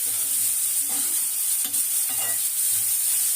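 Cabbage sautéing in a pan for a cabbage poriyal, a steady hiss with a few soft stirring strokes, fairly close and continuous, no one talking.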